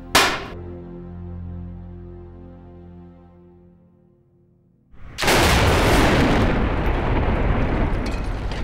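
A test blast explosion goes off: a brief crack followed by a low ringing tone, a few seconds of near quiet, then a loud rushing roar that arrives and lingers to the end.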